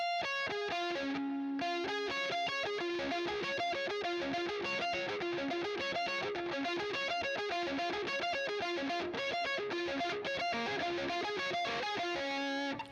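Distorted electric guitar plays a fast, continuous arpeggio pattern with each note distinctly picked, steady and even throughout.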